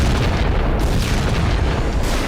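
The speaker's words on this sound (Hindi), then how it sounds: "यही वजह है कि इजराइल ने खान यूनिस इलाके पर जबरदस्त बमबारी शुरू कर दी है।" Bombing explosion in Khan Younis: a continuous, loud, low-heavy rumbling blast filling the whole short stretch, dense and unbroken with no clear separate hits.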